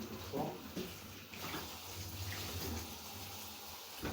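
Tap water runs steadily over a piece of furniture being rinsed, a constant close splashing rush with no pauses throughout.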